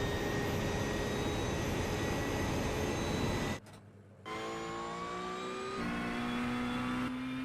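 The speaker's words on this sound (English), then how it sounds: "McLaren sounds like a goose." McLaren race car engine in the iRacing sim, droning loud and steady, then cutting out briefly before climbing again through rising pitch sweeps as it accelerates through the gears.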